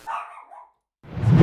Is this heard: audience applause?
no